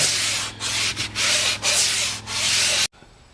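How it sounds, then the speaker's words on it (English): Steady abrasive rasping of a sanding block with sandpaper scrubbed back and forth over styrofoam, several strokes with brief pauses, close and loud, then it stops. "you can use the sanding block with a regular piece of sandpaper."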